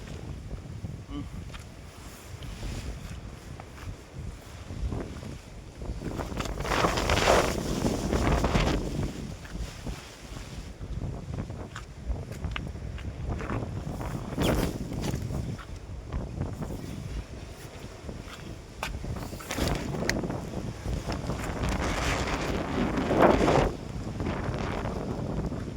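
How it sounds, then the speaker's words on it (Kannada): Strong wind at Kotebetta in Coorg roars and buffets the microphone in heavy gusts that swell and fade, with occasional speech faintly underneath. "ಗಾಳಿ ಹೊಡೆತ ಯಾವ ಥರ ನೋಡಿ,"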